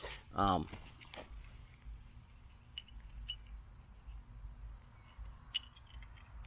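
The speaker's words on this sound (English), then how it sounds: "More glass, that's the clinking you hear." Sparse, faint clinks of glass shards ring out now and then against a quiet background at an outdoor firing range, after a short high whine near the start.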